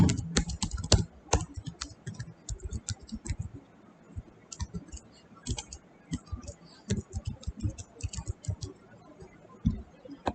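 Someone types a username, password and email on a computer keyboard, giving irregular bursts of crisp key clicks with short pauses between them, close and moderately loud, with no talking.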